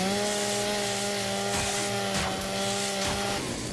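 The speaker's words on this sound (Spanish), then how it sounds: "vamos a la motosierra" A chainsaw in the video game Gears 5 runs with a steady, loud, buzzing engine drone and grinding rasps that surge briefly midway, with no talk over it.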